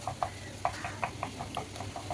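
A spoon stirs and scrapes through a homemade pizza mixture in a bowl, producing a quick series of light clinks and taps at an irregular rhythm, close and fairly quiet.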